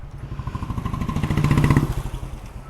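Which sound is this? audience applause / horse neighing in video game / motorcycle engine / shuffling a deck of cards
motorcycle engine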